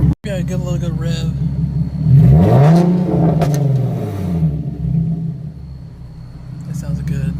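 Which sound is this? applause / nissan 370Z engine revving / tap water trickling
nissan 370Z engine revving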